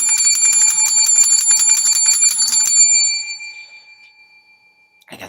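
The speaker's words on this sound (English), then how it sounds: "I got the bell." A small bell rings rapidly and continuously for nearly three seconds, a dense clear jangle up close, then a long fading tone before a brief noise at the end; nobody speaks.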